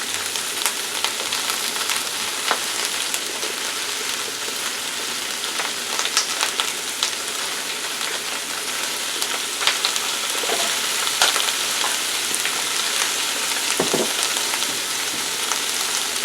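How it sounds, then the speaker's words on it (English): Cabbage fries in a pan with ginger added, giving a steady, close sizzle that crackles continuously for the whole stretch, with occasional light stirring and pops and no talking. "Okay, now I'm going to add some ginger."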